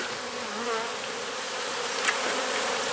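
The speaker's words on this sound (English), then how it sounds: "any bees that are on this inner lid get crushed" Honey bees buzz around an open beehive in a dense, steady drone, with individual bees whirring close by at moments and no talking.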